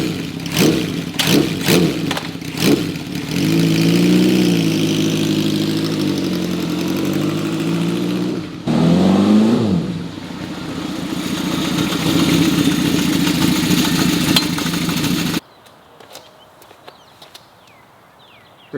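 A Honda CB750 motorcycle engine, freshly serviced with an oil change and with carburetor floats that stick, fires with a few sharp blips. It then settles into a steady close idle with two revs climbing and falling before it cuts off abruptly.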